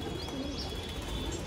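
Pigeons coo softly on a rooftop in a low, rolling murmur beneath a constant background hum, faint and close, with no talking.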